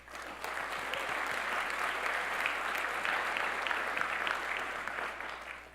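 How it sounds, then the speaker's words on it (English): Sustained audience applause at a regional economic development event, a steady dense wash of many hands clapping at fairly close range for several seconds with no talk over it. "I think that deserves a round of applause."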